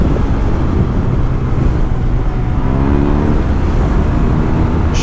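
Yamaha TMAX maxi-scooter engine droning loudly on the move, heavily buried under constant roaring wind buffeting, with a faint rising engine note surfacing midway.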